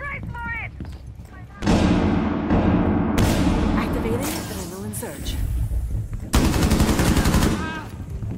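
Bursts of automatic gunfire in Rainbow Six Siege, loud and close, with a long rattling volley in the middle and another sharp burst near the end, while a voice shouts over the shooting.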